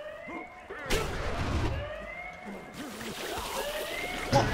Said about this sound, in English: I think I dodged the explosion.